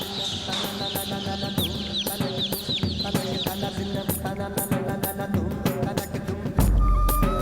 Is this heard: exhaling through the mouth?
no